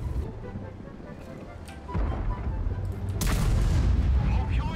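Tank cannon fire in World of Tanks, with heavy game booms and rumbling explosions building over several seconds, the loudest blast landing near the end amid engine rumble and a voice talking over it.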